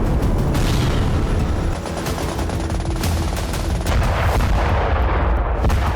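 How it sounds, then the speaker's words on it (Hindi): Dense, loud barrage of Turkish army gunfire and explosions striking targets in Syria, rapid overlapping bursts and booms that merge into a continuous roar throughout, with no clear gaps. "तुर्की की सेना ने उनके ठिकाने को टारगेट करके भीषण हमला किया"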